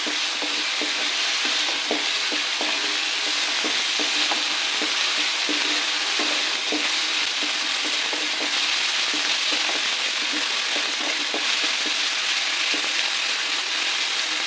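Chopped onions frying in oil in a pan for Kerala-style tomato curry, giving a steady loud sizzle throughout with a spoon scraping and stirring in a repeated rhythm close by, and no speech.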